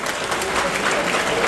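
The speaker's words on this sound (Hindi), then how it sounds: "तालियां बजाइए।" Students clapping together at a school program, a dense, steady burst of applause filling the room for a moment at close range with no voices standing out.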